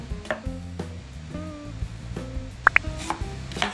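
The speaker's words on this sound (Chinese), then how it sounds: "接下来来切洋葱" A knife chopping onions on a board: a handful of sharp knocks, including a quick close pair, scattered over a few seconds beneath louder tonal background music.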